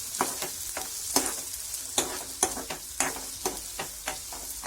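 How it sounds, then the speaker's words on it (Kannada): Beaten eggs fry in oil in a pan for an egg bread toast, a steady close sizzle broken by repeated sharp scraping clicks of a spatula stirring at an irregular beat, with no voices. "ಇದು ಎಣ್ಣೆ ಜೊತೆ ಚೆನ್ನಾಗಿ ಮೊಟ್ಟೆ ಇವಾಗ ಫ್ರೈ ಆಗಬೇಕು"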